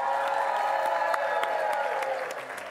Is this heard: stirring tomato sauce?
no